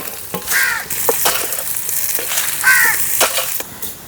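Onions frying in coconut oil in a home kitchen, a steady sizzle running under loud crow caws that repeat close by throughout.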